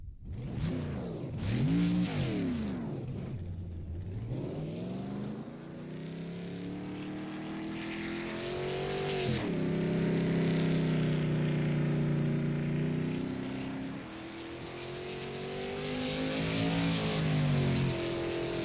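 A modified race car at Hickory Speedway roars down the back straightaway into turns 3 and 4, its engine rising and falling through shifts and revs, loud and close, with no talk.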